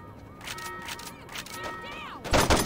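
Gunshots ring out in the video game Saints Row 2, with scattered shots through the action and a louder, heavier burst near the end, mixed with in-game voices.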